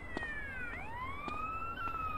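An ambulance siren in GTA San Andreas multiplayer wails with a clear rising and falling pitch sweep, fairly steady and moderately near, alone over faint background noise.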